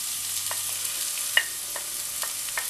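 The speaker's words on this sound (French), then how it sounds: "Je fais dorer l'oignon." Chopped onion and minced garlic frying in a pan, giving a soft, steady sizzle with a few light clicks of stirring scattered through.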